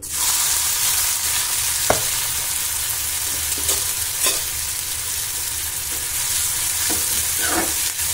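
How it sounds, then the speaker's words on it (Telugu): Thinly sliced onions fry in hot oil for a chicken fry, giving a steady, close sizzle with occasional sharp clicks and scrapes from stirring. "ఇప్పుడు అందులో సన్నగా కట్ చేసి పెట్టుకున్న ఉల్లిపాయ ముక్కలు వేసుకోవాలి"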